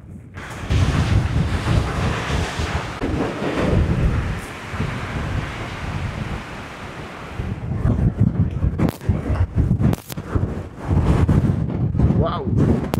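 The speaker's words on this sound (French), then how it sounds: "T'as vu la rafale de vent?" Strong wind gusts buffet the microphone in the Jura mountains, a loud, roaring rush that swells and eases over several seconds with brief knocks and rustles.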